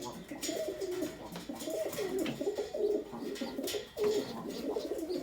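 Pigeons coo softly in a coop, a layered murmur of overlapping low calls from several birds that carries on without pause, with faint chirps mixed in.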